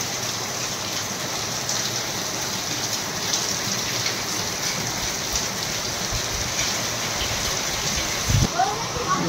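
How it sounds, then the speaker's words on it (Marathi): Heavy rain pours steadily on a farm in a dense, continuous hiss, with wind and a voice briefly audible near the end. "लय जोरदार पाऊस चालू झालाय बघ"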